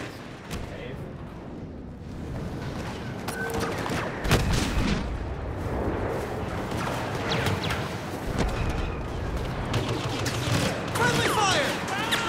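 Dense video game gunfire with overlapping rapid shots and booming blasts, loud and continuous, mixed with bursts of players' voices.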